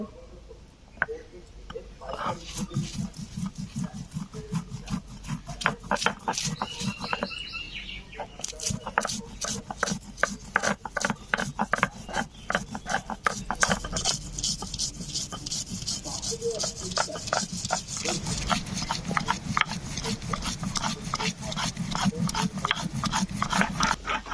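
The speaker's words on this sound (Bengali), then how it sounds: "এই সব কিছু একত্রে মিশিয়ে বেটে নেব" Mustard seeds, green chillies and ginger being ground into paste on a stone, a long run of rhythmic rasping rubbing strokes at close range, steady and fairly loud throughout.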